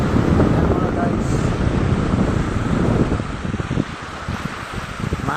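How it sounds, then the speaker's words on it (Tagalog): Strong afternoon wind gusts across a beach resort at low tide, roaring steadily into the microphone with a faint wash of surf beneath, easing slightly toward the end. "mahangin dito, alas 2 ng hapon."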